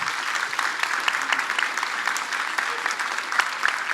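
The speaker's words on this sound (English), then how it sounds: "Let's give everybody a big round of applause." A luncheon crowd at a chamber of commerce candidate forum claps steadily for the candidates, a dense, even patter of many hands with a few sharper individual claps, carrying on evenly at moderate loudness.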